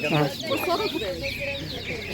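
Hens and chicks for sale at a village animal market cluck and peep nearby in a busy, continuous jumble while people talk over the poultry noise.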